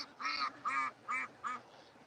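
Ducks quack four times in a steady row, each call a short nasal honk with even gaps between, fairly close and clear over quiet background.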